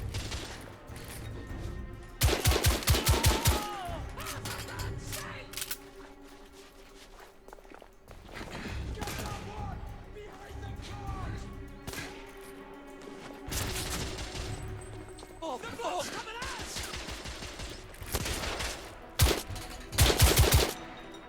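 Gunfire in The Order: 1886, sharp bursts of shots in several clusters over steady background game noise and footsteps, loud and close, with quieter stretches between volleys.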